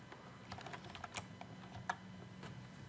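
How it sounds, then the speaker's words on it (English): A quick run of keystrokes on a computer keyboard as a project name is typed into software, light clicking taps in a brief burst over a faint steady background hiss, quiet and close. "then we type a project name, for example, Cordic Cosine Sine"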